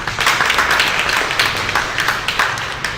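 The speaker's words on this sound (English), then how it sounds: "A big applause for him, please" A crowd applauds designer Andre Noguera at a design event, steady dense clapping from many hands filling the room, with no voices over it.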